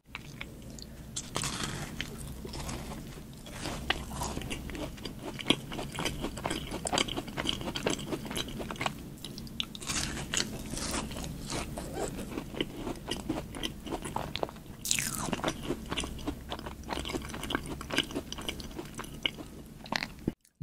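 Close, crisp bites and moist chewing of a dark chocolate praline macaron with a nutty center, repeated crunches and smacking mouth sounds in an irregular rhythm over a quiet background.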